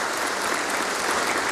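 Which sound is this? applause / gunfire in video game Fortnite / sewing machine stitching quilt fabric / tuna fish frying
applause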